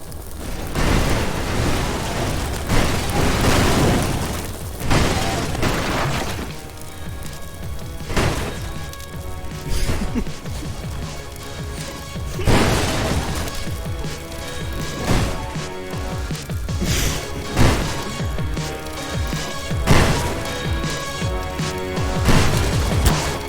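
Repeated loud explosions in Garry's Mod, a series of crashing, booming bursts with rumbling tails at uneven intervals, heard alone without talk.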